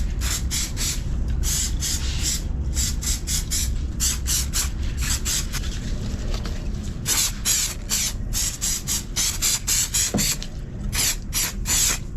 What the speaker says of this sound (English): next up, some chemical mold release. Put on 3 coats of that, 5 minutes between each coat